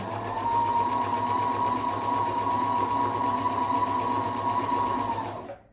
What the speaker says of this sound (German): Und jetzt nähen wir.